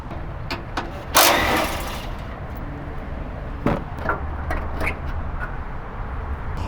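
An impact wrench with a 12 mm socket removes skid plate bolts under a vehicle, giving one loud buzzing burst followed by a shorter one, with scattered clicks and handling noises in a quiet workshop.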